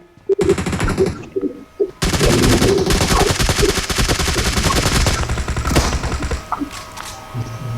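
M249 machine gun fire in the mobile battle royale game BGMI on the Erangel map, loud rapid automatic bursts, a short burst then a long sustained stream of shots trailing into scattered single cracks.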